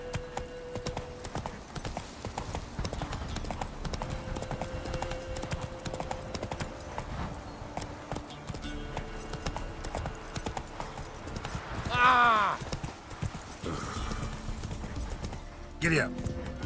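A horse ridden in the video game The Witcher 3 sends out a steady, rhythmic clip-clop of hooves throughout, with game voices and ambience layered over it.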